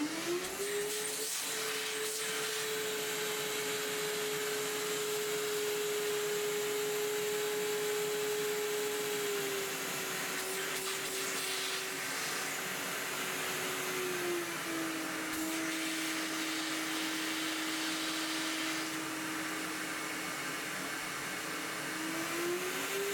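A Festool 36 volt CT Midi dust extractor runs continuously with a steady, loud whirring drone whose pitch dips slightly twice, over a constant airy rush.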